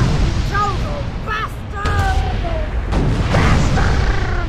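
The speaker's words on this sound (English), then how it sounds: "These explosions should look great." Explosions in a video game burst out as a few loud, broad booms within a dense, noisy mix of game sound and voices.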